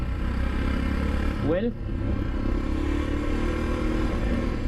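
Royal Enfield Himalayan motorcycle being ridden through corners on the road, a steady engine drone mixed with rushing wind noise throughout, with a brief voice passing over it once.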